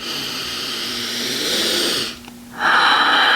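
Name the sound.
deep breath exhaled through open mouth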